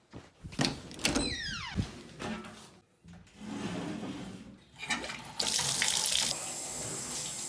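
Water from a shower running steadily, preceded by clunks and a squeaky turn of the handle, then a louder, even hiss of spray filling the last few seconds.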